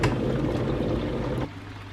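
Boiling water is poured into a bowl holding potassium permanganate, mixed as a treatment for a koi pond. A close, steady gushing pour runs for about a second and a half, then stops abruptly.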